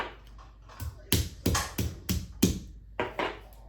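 Cloves being smashed in a kitchen while hummus is made, heard as about eight sharp, close knocks in an uneven rhythm, with short pauses between bursts.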